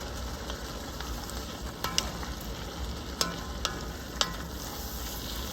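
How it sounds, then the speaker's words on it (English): Peppers cooking down in a pan for chili, a quiet steady sizzle and crackle with a few sharp pops and occasional light stirring scrapes, close but soft. "We're gonna let these peppers cook down just for a minute"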